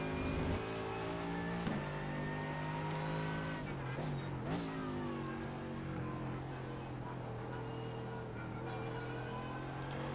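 GT3 race car driving at Spa in the iRacing sim, a loud sustained engine drone with shifting revs and brief gear changes, heard continuously over a few seconds with faint talk beneath.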